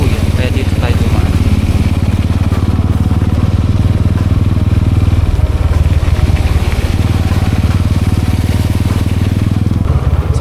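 A motorcycle engine drones loud and close as the bike pushes through flood water, a constant rough rumble with churning clatter, and voices are partly buried beneath it.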